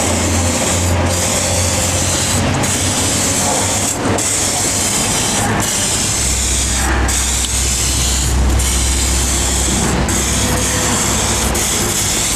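Developer aerosol hisses out steadily from a shaken can as a light coat is laid onto metal for a crack detection test, one continuous spray with brief pauses and a low hum underneath.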